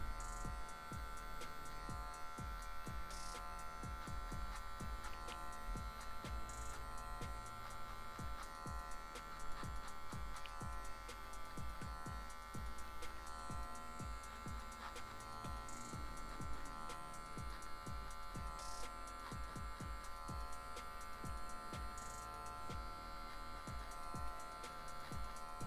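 Electric hair clippers cutting a fade into curly hair in a barbershop, a faint, steady buzzing hum with small clicks and shifts as the blade moves, running throughout.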